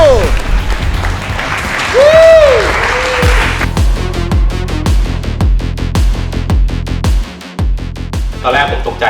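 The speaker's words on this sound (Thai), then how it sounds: "เดี๋ยวผมขอเสียงปรบมือนะ" An audience applauds for a judge at a tattoo competition, with sustained clapping that turns into sharper, scattered claps. Someone speaks loudly over the start of it.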